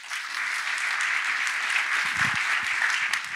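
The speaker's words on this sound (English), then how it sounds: "A big hand of applause for Marleen." An audience at the IIPC WAC 2023 conference breaks into steady, full applause after a keynote introduction, a dense and even wash of clapping that holds for several seconds.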